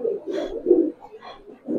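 Large gribaz pigeons of the Palla line cooing close by, several throaty burbling calls rising and falling over under two seconds, with no speech.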